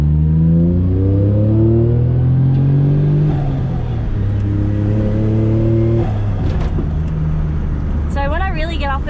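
A small turbocharged Daihatsu Mira L200S kei car engine drones and revs loudly up close, pitch rising and falling through gear changes, with a brief blow-off valve hiss near the end.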